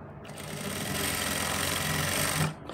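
Sewing machine stitching piping along the bottom edge of a pintuck sleeve, one continuous close, rapid mechanical whir that starts abruptly, holds steady and stops short, with no voices.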